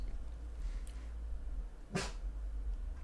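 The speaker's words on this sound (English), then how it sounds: "And then my dog's going to bark." A single sharp dog bark cuts through indoors, moderately close, over a low steady hum, with a faint fainter sound just before it.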